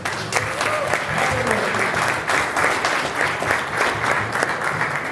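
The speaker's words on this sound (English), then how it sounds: "let's have a big round of applause for Catherine Arcader, who's done a great job this year." A Rotary club meeting audience breaks into sustained applause, a dense, even patter of many hands clapping for several seconds at close range, with a few faint voices mixed in.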